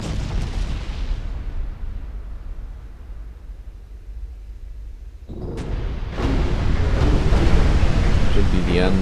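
Naval gunfire from battleships and battlecruisers in the Ultimate Admiral: Dreadnoughts naval game, with heavy rumbling booms and a steady roar of sea noise, growing louder and denser toward the end.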